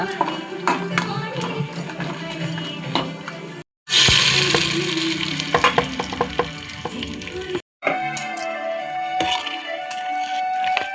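Hot oil sizzles loudly and steadily as spices and garlic are tempered for Mangalore chicken sukka, with clinks of a utensil and a brief voice.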